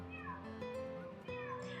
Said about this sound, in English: That's my cat. That's my cat.